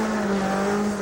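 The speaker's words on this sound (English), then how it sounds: "Off we go, getting the revs up." A rally car's engine revs hard at a stage start in the British Rally Championship, a loud, close, sustained tone over the whole brief moment with no voices.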